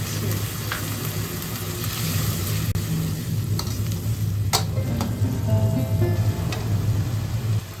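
Ground spice and chili paste sizzle steadily in hot oil for an egg bhuna, with a dense, even crackle and occasional scraping of stirring close by.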